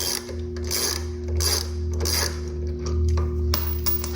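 A ratchet wrench clicks through several bursts while turning bolts on a brake pad replacement, close and fairly loud over a steady low hum.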